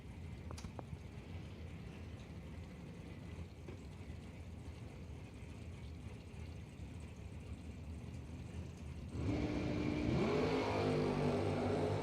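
A Camaro and a wagon launch off the line at a drag race. Quiet crowd ambience gives way about three-quarters of the way through to a sudden loud engine surge that climbs in pitch as the cars accelerate.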